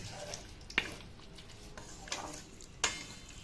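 Bitter gourd curry being stirred in a pan, with a faint simmering hiss underneath three separate sharp scrapes of the spoon against the pan, spaced about a second apart, with no voices.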